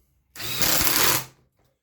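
A power drill drives a screw into a clamped 2x4 patio side table frame in one short, loud whirring burst of under a second that stops abruptly.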